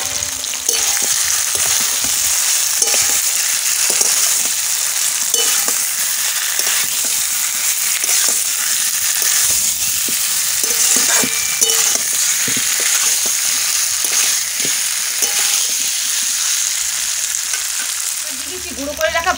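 Seared chicken pieces sizzling and frying in a pan for Bengali kala bhuna, with a loud, continuous hiss and repeated scraping clicks of a spatula stirring throughout, and no talk.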